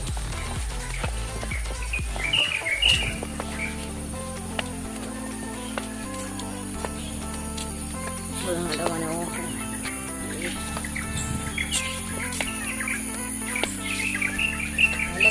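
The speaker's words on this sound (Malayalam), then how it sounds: "കിളികളുടെ ഒച്ച കേൾക്കുന്നു" Birds chirp in scattered short calls over a steady background of music-like tones and ambient noise, moderately close.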